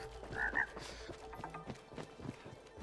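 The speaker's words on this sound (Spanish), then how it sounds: "Rana, es rana" Frog croak in the video game It Takes Two, a short pair of bright croaks near the start, then quieter game sounds and faint background clatter.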